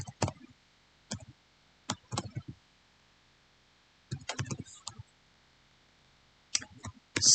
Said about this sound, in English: Sorry, I'm having difficulty typing here.